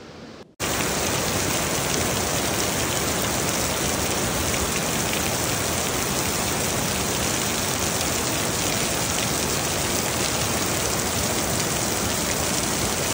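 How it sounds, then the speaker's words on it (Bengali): Heavy rain pours steadily on Saint Martin's Island, a dense, loud, unbroken roar of drops striking surfaces that starts abruptly and stays constant, with no voices. "ঘুম থেকে উঠেই এত দুর্দান্ত একটা বৃষ্টি পেয়েছি"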